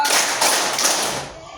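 A classroom group claps together in a counted rhythm, making a brief dense burst of many hands slapping at once that fades quickly.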